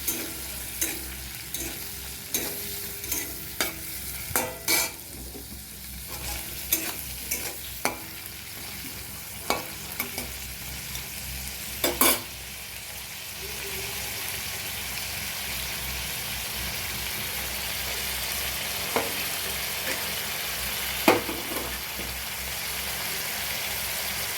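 A spatula stirs frying ingredients seasoned with salt and turmeric in a pan, with a run of sharp taps and scrapes at first, then a steadier, fuller sizzle broken by occasional clinks.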